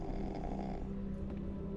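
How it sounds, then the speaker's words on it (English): A pig snores in The Wolf Among Us video game, a low, quiet rumbling snore held steady and alone, with no talking over it. "Who's snoring?"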